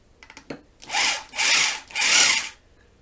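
A power drill whirs in three short bursts, close and fairly loud, after a few faint taps and clicks, while building a coat rack in a workshop.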